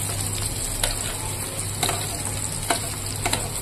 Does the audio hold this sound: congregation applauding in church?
no